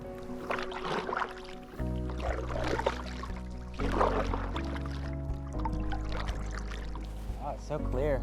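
Kayak paddling on Lost Lake near Mount Hood, with soft water splashes and trickles from paddle strokes under a steady musical bed, close and moderate in level, with some voices faintly present.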